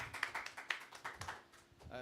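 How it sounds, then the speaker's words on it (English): Audience applause at an academic awards event, with quick scattered claps at low volume under a speaking voice. "Give them a warm welcome, give them a round of applause"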